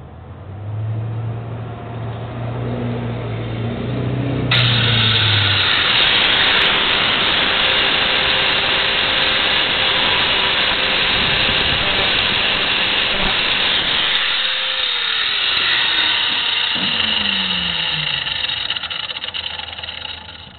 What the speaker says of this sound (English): Gonna hit that hole with the grinder.